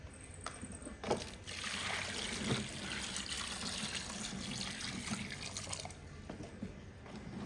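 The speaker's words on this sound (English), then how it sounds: "I'm going to wash the guinep and the ginger them" Guinep fruit and ginger rinsed under running tap water, a steady close splashing and trickling stream with a few brief sharper spatters of handled fruit, no talking.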